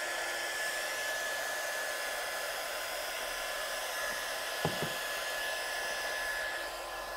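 A heat gun heat-setting embossing powder on card gives a steady, loud, even blowing whir that runs without a break, with one faint tap near the end.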